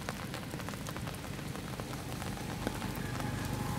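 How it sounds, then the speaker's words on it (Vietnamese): Rain pouring steadily during a stormy fishing trip outdoors, a dense close patter of drops hitting surfaces that stays constant throughout, with no voices. "Ngoài đó mưa lớn ghê, ngoài trong đây mưa nhỏ."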